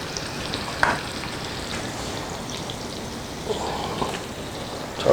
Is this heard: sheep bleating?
no